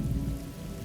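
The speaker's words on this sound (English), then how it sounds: "Thunder rumbled," Low thunder rumbles under steady rain in a monsoon storm, a dense wash of drops over a deep, continuous roll.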